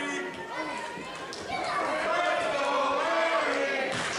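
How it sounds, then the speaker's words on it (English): A wrestling crowd at a Canadian Wrestling Coalition show buzzes with chatter and shouts, swelling louder midway as the audience fires up, with commentary voices over the noise. "We can hear this crowd firing up"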